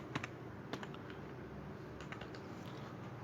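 Scattered keystrokes on a computer keyboard while entering a city name into a SQL table, light irregular taps at close range over a steady background hiss.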